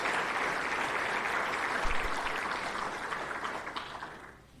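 Crowd applause for Order of Titans award recipients at a senior athletics banquet, a sustained even roar of many hands clapping that fades away toward the end.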